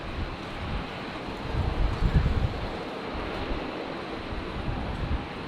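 Wind buffets steadily at Brisbane Airport, a broad rushing roar with gusts swelling midway, loud and close against the microphone with no voices.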